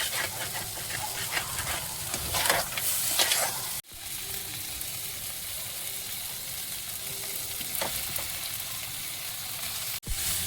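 A fish chop spice mixture with chilli powder, turmeric and ginger-garlic paste sizzles steadily in a pan while being stirred, with scraping bursts and two sharp knocks against the cookware, close and fairly loud throughout.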